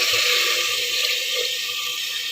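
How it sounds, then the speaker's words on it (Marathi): Water pours steadily into a pot of masala rice, a continuous splashing rush without a break, close by. "आता यामध्ये मी पाणी टाकते आहे आवश्यकतेनुसार"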